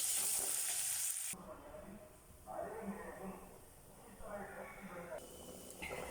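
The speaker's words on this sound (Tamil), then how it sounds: "அது கூட தக்காளி, பச்சை மிளகாய், நல்லா வதக்கி விட்டுட்டு" Soft sizzling and crackling of tomatoes and green chillies sautéing in a pan for fish curry, with occasional stirring scrapes; steady, close, and moderately quiet throughout.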